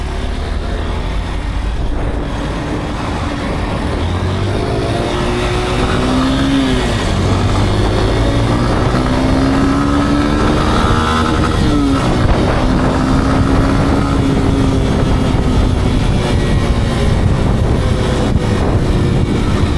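A Honda Bros motorcycle engine is pushed to full throttle on a highway, a loud, steady roar with the pitch climbing and falling through gear changes amid constant wind and road noise.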